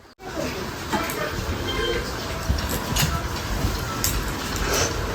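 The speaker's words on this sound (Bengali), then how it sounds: "আবার জোরে বৃষ্টি হচ্ছে" Heavy rain pouring down outdoors, a dense continuous hiss of drops close by, with a brief knock at the start and faint voices now and then.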